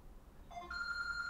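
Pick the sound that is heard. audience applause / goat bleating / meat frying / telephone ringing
telephone ringing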